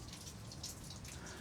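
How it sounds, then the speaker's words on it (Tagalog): Rain falls steadily while the sun shines over a mini farm piggery, with soft, continuous patter and scattered close drips across the whole clip, and no talking. "Maaraw na umuulan."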